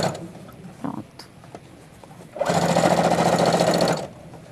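A sewing machine stitches in one steady run of about a second and a half, a close, loud, rapid mechanical chatter, preceded by quiet handling clicks and faint fabric rustle.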